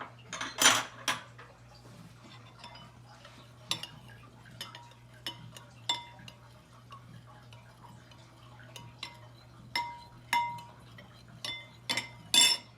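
A spoon stirs play dough ingredients and a tablespoon of oil in a bowl, giving sparse light clinks and taps against the sides with quiet gaps and a few louder knocks, over a faint steady hum.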